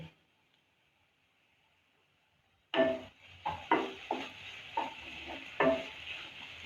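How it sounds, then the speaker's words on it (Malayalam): A spoon scrapes through prawn roast with added salt in a pan, starting after a long near-silent pause with a series of clinking, scraping strokes over a soft sizzle. "ഒന്ന് നല്ലോണം ഒന്ന് ഇളക്കി കൊടുക്കണം"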